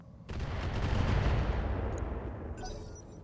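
BattleTech mech weapons fire on a Karnov in a sustained, dense barrage that starts abruptly, rumbles steadily for a few seconds, then thins out into fainter crackles and a high electronic chime.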